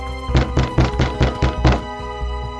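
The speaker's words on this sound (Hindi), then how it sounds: "वो उनके दरवाजे पे आती है और दरवाजा खटखटाती है।" Seven quick knocks on a door in a tight rhythmic burst, close and firm, followed by a soft lingering tone under it.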